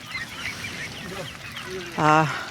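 Ducks on a duck farm call with soft, scattered quacks while being fed, then one loud, nasal honking quack close by near the end.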